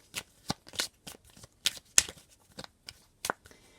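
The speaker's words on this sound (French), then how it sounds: "J'ai trop de cartes qui tombent." Oracle cards being shuffled and dropping onto a surface, a run of sharp riffling snaps and soft slaps in an irregular rhythm, close and fairly quiet with no talk.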